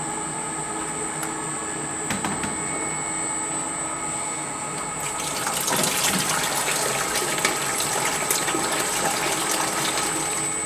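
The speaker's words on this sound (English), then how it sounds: "you can go ahead and turn the machine on to wash mode" A Presidential soft-serve machine (S110/S230/S520/S970 series) runs its wash mode with water, giving a steady mechanical whir and pump hum that grows into a louder rushing, sloshing gush halfway through, with no voices.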